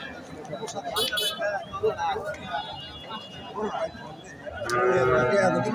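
A Holstein Friesian heifer moos loudly nearby, with a long drawn-out low at the end, while people talk in the background.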